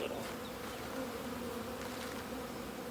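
Honey bees swarm and buzz steadily around a nuc hive being installed outdoors, a dense, continuous hum of many wings filling the whole moment, fairly close with no voices over it.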